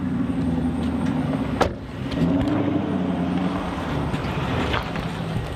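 A deep, rumbling Dodge Magnum V8 idles and burbles loudly through a throaty Flowmaster exhaust, with a brief sharp blip partway through.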